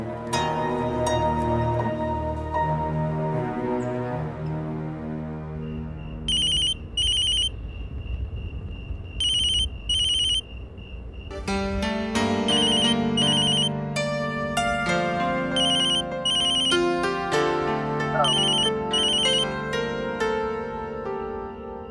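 A phone rings repeatedly while a call is tried, a looping electronic ringtone melody with bright beeping pulses over background music, clear and prominent, no talking.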